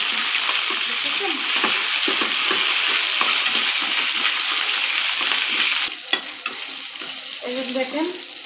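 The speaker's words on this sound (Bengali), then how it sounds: "মরিচ পেঁয়াজ ভাজবো, তার জন্য তেল দিয়ে দিলাম।" Chilies and onions fry in hot oil with a loud, continuous sizzle. The hiss drops partway through, and stirring scrapes and clinks follow.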